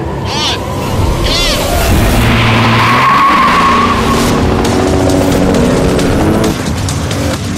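A Lexus IS 350 F Sport launches hard with a loud, sustained tire screech and skid that rises into a roaring engine run, close and continuous for several seconds.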